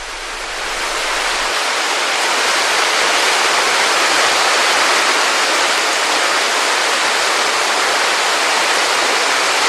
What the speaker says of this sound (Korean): 동네 주민들만 안다는 용수 폭포.